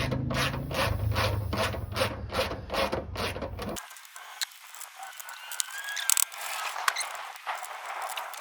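A ratchet clicks in rapid repeated strokes while bumper bolts are tightened on a vehicle, loud and close, before the mechanism sound gives way to quieter scattered metallic rubbing and handling noises.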